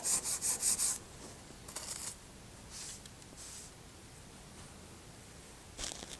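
Scrubbing an etched knife blade, with several quick close rubbing strokes in a burst at the start, then a few sparse scrubbing passes separated by quieter gaps.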